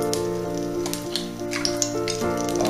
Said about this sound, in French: Je prends un œuf, je vais casser et verser sur le poêle directement.